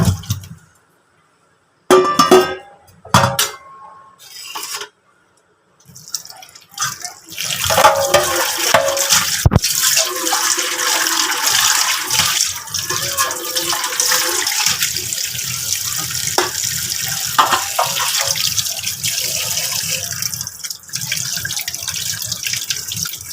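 Tap water runs into a sink while pieces of boal fish are washed by hand, starting with short splashy bursts and clinks before settling into a steady, fairly close stream of running water.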